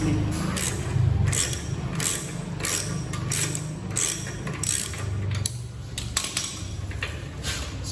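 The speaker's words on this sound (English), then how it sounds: "the other side you have to hold with the spanner" A spanner works the pillion footrest bolt on a 2025 Royal Enfield Bullet 350, giving repeated metallic ratcheting clicks in a steady rhythm, close up over a low background hum.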